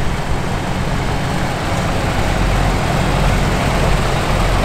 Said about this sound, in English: Here's a Farmall 200.